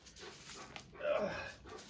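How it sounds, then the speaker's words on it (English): A dog pants in quick, soft breaths close by, rising briefly to a louder burst partway through, fairly faint overall on a farm homestead in winter. "she's a good dog"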